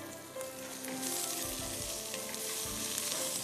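Chicken wings or chicken lollipops frying in hot oil in a pan, a steady close sizzle with a few soft stirring bumps and no talking.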